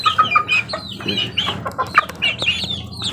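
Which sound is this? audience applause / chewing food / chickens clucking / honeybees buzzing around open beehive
chickens clucking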